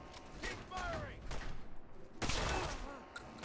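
Bursts of gunfire from the video game Fallout 4 crackle in rapid volleys under a busy game soundtrack, with a voice speaking over the shots.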